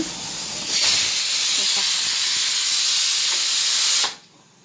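A pressure cooker on the stove vents steam in one loud, continuous hiss that starts abruptly, holds steady for about three seconds, then cuts off sharply.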